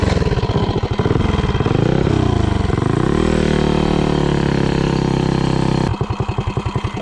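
A Mega Moto 80 minibike engine roars loudly at full throttle, climbing in pitch, holding a steady high-rev drone, then dropping abruptly back to a lower chugging beat.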